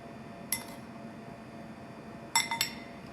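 Sauce being spooned into a small glass dipping dish while making crying tiger beef: two sharp glassy clinks, one single and a later quick double tap, over a quiet kitchen background.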